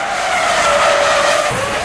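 Formula 1 cars on dry tyres skid and squeal across a wet, water-covered track under heavy braking, a loud continuous tyre screech over engine noise, close by.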